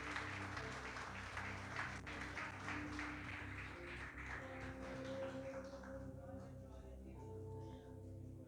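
A church congregation applauds during an evening worship service, a faint, steady wash of clapping with a low hum beneath, fading toward the end.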